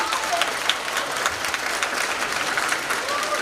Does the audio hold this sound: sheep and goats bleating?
no